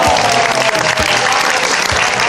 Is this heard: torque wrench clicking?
no